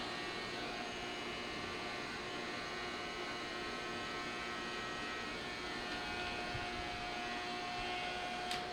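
A Neakasa P1 Pro pet grooming vacuum runs continuously, giving a low, even motor hum and airflow whoosh that stays steady throughout with no voices.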